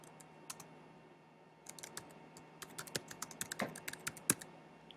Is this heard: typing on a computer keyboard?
yes